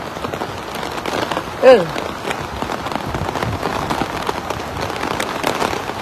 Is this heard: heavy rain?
yes